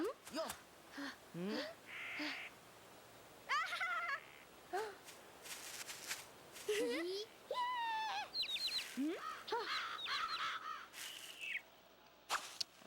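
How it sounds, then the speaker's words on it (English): Crows caw in the video game Billy Hatcher and the Giant Egg, harsh repeated calls scattered among other game sound effects and chimes, with a player talking at times. "It's gonna get attacked by some mean crows."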